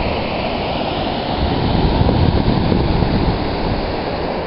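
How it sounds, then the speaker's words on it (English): A waterfall on a bike trip from Montréal to Rivière-du-Loup gives a loud, steady broadband rush of falling water, close by and constant, with no voices. "Pretty, pretty waterfall."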